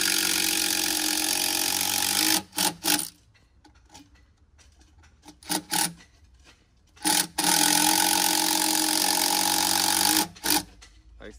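A power tool drives 3.5 screws into a wooden floating bench in several loud, close whirring bursts, some long and some short, separated by quieter gaps with faint background sound.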